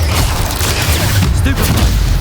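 A Stupefy spell cast in the video game Hogwarts Legacy, a loud, continuous booming magical blast with rumbling low end and bursts of impact over a couple of seconds.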